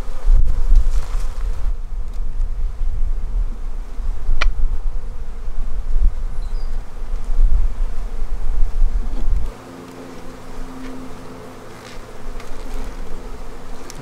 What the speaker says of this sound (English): there's a lot of bees out front here